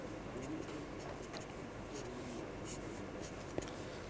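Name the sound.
drawing wood-plank textures on paper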